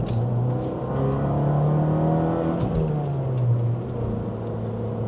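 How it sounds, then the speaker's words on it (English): A Fiat 500 Abarth being driven fast, its engine droning loudly and steadily with a rising and falling rev note, close and continuous with no talking. "driving in a slower car, like this Fiat 500 Abarth, and actually driving it fast and spiritedly"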